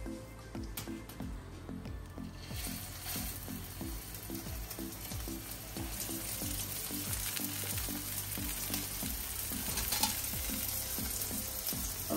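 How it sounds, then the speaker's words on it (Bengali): Beef fillet frying in olive oil gives a steady close sizzle throughout, with a rhythmic low clatter from the pan near the start that eases off, the frying staying even and slightly fuller toward the end. "আমি এখানে একটু ব্রাউনি করে ভেজে নিব"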